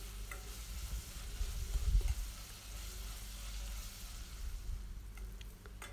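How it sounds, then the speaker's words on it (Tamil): Onions with a little salt sauté quietly in a pan as the base for a spicy chicken gravy, with a soft steady sizzle broken by occasional light stirring scrapes. Close but faint, with no one talking. "உப்பு சேர்த்துட்டு இதை நல்லா வதக்கிக்கோங்க"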